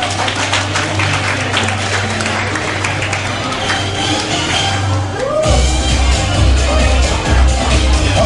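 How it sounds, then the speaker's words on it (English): A crowd at an 18th birthday debut celebration applauds to welcome the debutant's parents: dense, steady clapping with scattered cheers over a constant low hum, filling the whole stretch without pause. "Ladies and gentlemen, let's give them a big round of applause."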